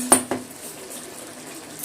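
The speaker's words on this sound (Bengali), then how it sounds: "ঢাকাটা খুলে একটু দেখুন।" A metal lid lifted off a cooking pot of simmering potatoes and fish curry, giving a sharp clink followed by a second lighter clatter, then a soft steady kitchen hiss.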